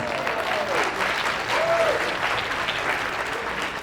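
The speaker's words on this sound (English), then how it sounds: "Everybody, big round of applause for Jarni" Keynote audience at a teaching conference gives a full round of applause for a volunteer, steady and loud, with a few brief whoops or voices rising above the clapping.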